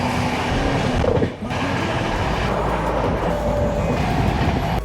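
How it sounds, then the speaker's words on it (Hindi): A Duronto express train running at speed, with a loud, steady rolling rumble and faint clickety-clack of wheels on rails. A brief dip occurs partway through, and a faint whine runs along throughout. "बहुत ही बढ़िया स्पीड से ट्रेन भाग रही है।"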